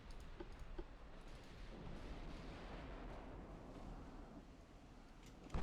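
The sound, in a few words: destroyer gun salvo in Ultimate Admiral Dreadnoughts video game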